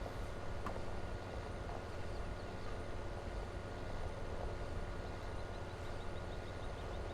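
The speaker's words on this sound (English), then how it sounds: "You can really hear the engine revving though as it's bouncing in and out the ruts." Tractor engine in Farming Simulator 15 revving hard while ploughing through ruts, a steady loud broadband drone with continuous low rumble throughout, no talk.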